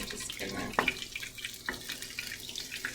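Water splashes and trickles into a pan of hot oil while making Bhutanese khewa datshi, with a few sharp sizzling pops breaking through the steady running water; close and moderately quiet.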